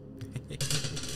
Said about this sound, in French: C'est la bruit de la porte qu'on ouvre.